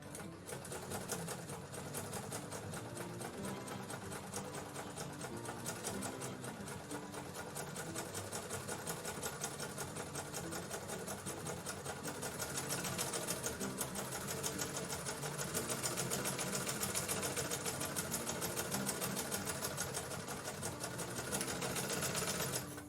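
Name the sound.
sewing machine stitching fabric for cloth bunny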